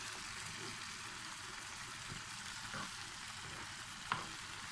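Very juicy tomatoes fry in a pan on a home stove, giving a steady soft sizzle and hiss with a faint clink of a utensil near the end.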